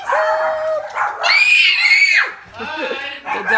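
Dogs in a family home give loud, high-pitched bursts of barking and howling, sustained and close, with a voice mixed in.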